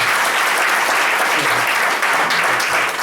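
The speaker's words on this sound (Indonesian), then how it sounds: "tepuk tangan yang meriah Bapak Ibu sekalian" Loud, sustained applause fills a meeting hall as an audience claps energetically and without a pause, with a few voices faintly audible beneath.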